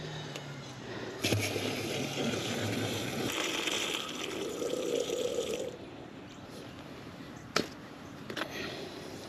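Water is poured into a garden sprayer to mix a neem oil solution. It makes a faint, steady rushing and trickling, with a few sharp knocks and clunks of the container.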